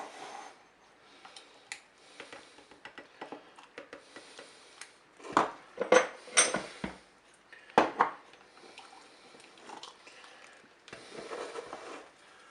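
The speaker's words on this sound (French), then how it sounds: "Donc maintenant, je vais remplir mes pots." Glass jars being filled with homemade apple jam, with soft irregular taps, clinks and scraping of a spoon against glass, a cluster of louder knocks midway, close and quiet with no talking.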